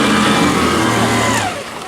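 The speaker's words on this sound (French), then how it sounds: "Là, le moteur est démarré." A boat engine runs steadily at close range, a continuous droning hum with no pauses or speech over it.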